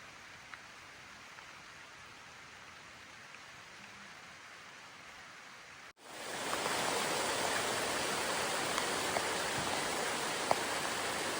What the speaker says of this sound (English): And it's gonna be a downpour.